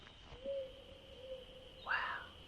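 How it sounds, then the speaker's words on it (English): A male powerful owl calling at dusk in the bush, a low, steady hoot held for about a second, fairly faint and distant, with a brighter bird call briefly overlapping near the end. "That's that male powerful owl."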